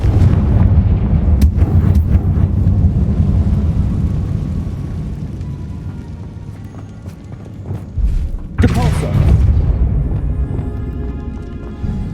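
A Confringo blasting spell in the Hogwarts Legacy video game bursts into a loud explosive boom near the end, following a stretch of low rumbling game ambience, with the crash dying into a lingering roar.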